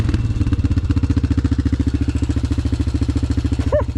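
A Honda Recon 250 ATV engine idling close by with a steady, rapid thumping putter that stays even throughout, plus a brief faint squeak near the end.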